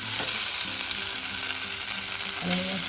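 Taarli fish frying in a pan gives a loud, steady sizzle and crackle that fills the whole stretch, with a faint low clatter underneath.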